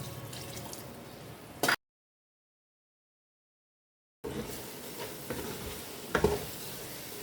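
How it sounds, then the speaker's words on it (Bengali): Ground spices with chili, turmeric, coriander, cumin, salt and green chilies sizzle in a pan with a little water for beef rezala, stirred in bursts; the sound cuts out in a silent gap midway, then resumes with scraping. "পানিটা দিয়ে মশলাটা কষিয়ে নেব"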